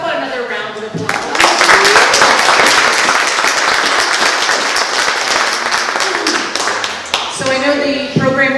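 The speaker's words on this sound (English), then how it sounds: "How about another round of applause?" Loud, sustained applause from the audience at a Door County Historical Society talk on roadside chapels, with dense clapping from about one second to seven seconds and speech before and after.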